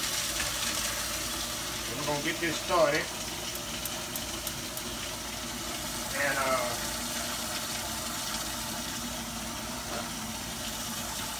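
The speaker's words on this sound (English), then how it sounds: "I'm gonna fill this up with water here." Tap water running steadily into a pasta pot in a home kitchen, a continuous gush lasting the whole stretch while someone talks briefly over it.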